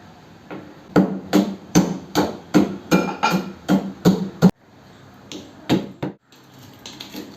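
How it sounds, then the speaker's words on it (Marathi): Rock sugar crushed in a stone mortar, heard as a rapid run of about a dozen loud, sharp pounding knocks, then a pause and a few more strikes close by. "आता खडी साखर जी आहे ती मी फोडून घेते दगडीमध्ये"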